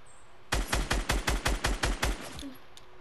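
Gunfire in Fortnite, a rapid burst of about ten loud, evenly spaced shots lasting under two seconds, close and alone, followed by quieter faint game sounds.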